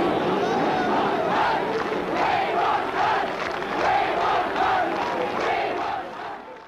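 A large English crowd at a motor race, at the race with British driver James Hunt, rumbles and chants in unison with rising swells of shouting, dense and continuous at mid distance.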